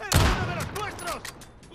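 Rapid bursts of gunfire in a Call of Duty Modern Warfare campaign mission, a loud opening blast followed by several sharp shots and echoing cracks over about two seconds.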